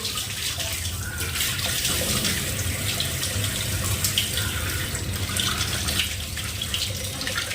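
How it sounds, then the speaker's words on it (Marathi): Water runs steadily from a tap with a constant splashing hiss, as something is rinsed beneath it, close and continuous with no talking. "आता हे मी पाण्याखाली धुती आहे"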